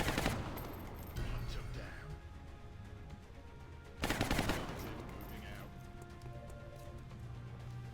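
Overwatch gunfire in the turn-based game XCOM: Enemy Within, Long War mod, two sharp bursts of rapid automatic fire about four seconds apart, each trailing off into a rumbling tail.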